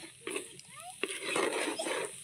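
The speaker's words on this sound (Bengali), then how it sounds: "দেখুন নাড়তে নাড়তে আমার কড়াইয়ের গা দিয়ে এটা ছেড়ে চলে আসছে।" A thick date-palm jaggery mixture is stirred in a wok, giving close, soft scraping and sticky slapping strokes against the metal with a faint sizzle, in short irregular bursts.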